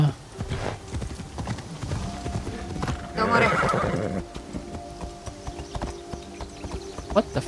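Horse neighing and galloping hooves in a video game, with a loud whinny burst near the middle over steady clip-clop and game noise, under occasional talk.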